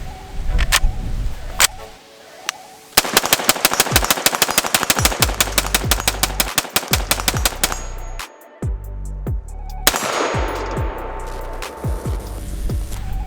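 A Tavor X95 rifle fires rapid mag dumps: long, loud, close strings of fast shots in steady succession, broken by a few short gaps between bursts.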